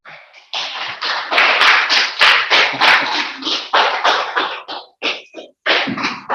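Students in a Kota JEE maths classroom clap their hands continuously, a dense, loud, steady patter of many hands close by that swells in bursts and briefly breaks off near the end.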